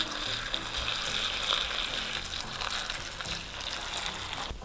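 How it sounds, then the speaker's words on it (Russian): Cold water poured over salted eggplant pieces in a bowl makes a steady, hissing gush that runs close and continuous for several seconds, with no voices. "И заливаем это все холодной водой"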